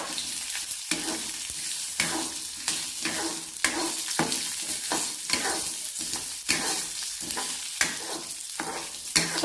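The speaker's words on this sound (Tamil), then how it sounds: "பச்சை வாசனை போகிற அளவுக்கு வதக்கி வச்சுக்கலாம்." Green chillies, ginger and curry leaves are sautéed in a pan for chutney, a close sizzle broken by repeated rhythmic spatula strokes against the metal, about one every half second.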